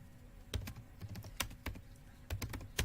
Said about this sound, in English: So I am typing here apt minus get install